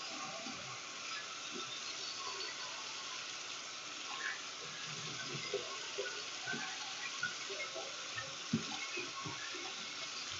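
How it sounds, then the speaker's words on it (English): Tap water runs steadily from a sink faucet during hand washing, a continuous broadband hiss with small splashes and knocks scattered through it, heard close and alone. "Turn the water off."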